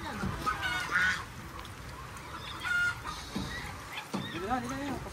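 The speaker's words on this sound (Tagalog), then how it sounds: "Nanghuli kami ng bibe saka manok." Caught ducks and native chickens call in a field, with honking quacks and clucking bursts close by while people talk over them.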